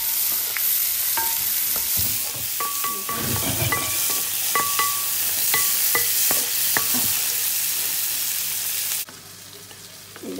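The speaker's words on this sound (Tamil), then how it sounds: "வெங்காயத்தையும் போட்டு ஒரு மெல்லிய சூட்டில் விட்டு வதக்கினீங்கடா ஓகேயாக இருக்கும்" Onions soften over low heat in a pan for Sri Lankan-style fish patties, giving a steady soft sizzle, with a spoon clinking and scraping against the pan now and then.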